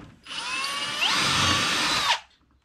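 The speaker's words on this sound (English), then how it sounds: "you drill your two holes in your slots, and there's guides on this front of this jig that show you where to drill" A power drill turns a Kreg pocket-hole bit into wood in a jig during a pole barn build, one loud continuous whine of about two seconds that rises slightly in pitch before stopping.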